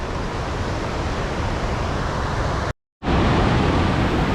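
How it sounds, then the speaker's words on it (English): Steady, loud broadband rush of the waterfall at Box Canyon near Buhl, Idaho, heard close and continuous, with a brief cut to silence partway through before the roar resumes. "That must be the waterfall that they were referring to."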